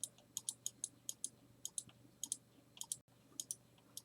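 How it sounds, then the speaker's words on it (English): Rapid mouse clicking during a Roblox Doomspire game: sharp, evenly spaced clicks at roughly four per second, with a brief gap near the end, over a low steady hum and no voices. "You just gotta keep clicking fast"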